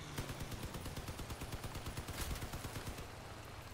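A deployed turret in Crossout fires a rapid burst of gunfire, dense rhythmic shots clattering steadily for a few seconds at close range.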